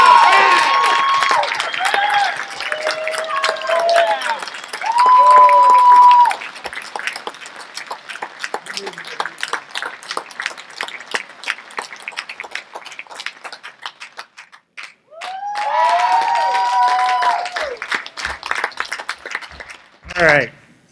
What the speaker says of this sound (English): Ladies and gentlemen, a round of applause, if you would,